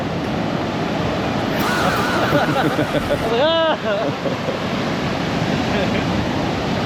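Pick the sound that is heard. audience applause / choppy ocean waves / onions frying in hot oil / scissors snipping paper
choppy ocean waves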